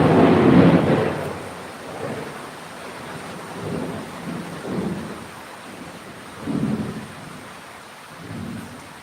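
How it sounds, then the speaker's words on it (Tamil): Rolling thunder during a night thunderstorm with rain, starting with a loud close crack and followed by several softer, distant rumbles spread across the stretch. "இடி பயமாக இருக்குது"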